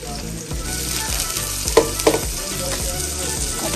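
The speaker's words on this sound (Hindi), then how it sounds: "हम लोग ऐड करने लगे हैं यहाँ पे प्याज।" Onions hit hot ghee for chicken pasta and set off a loud, close frying sizzle. A few sharp spatters and stirring scrapes rise out of the continuous hiss.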